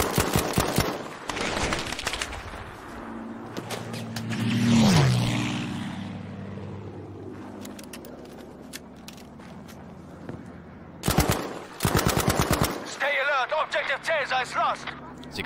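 A Sten submachine gun fires in Battlefield 5 in rapid bursts, sharp and close, with engine and aircraft drone and a passing whoosh between them; someone talks over parts of the gameplay.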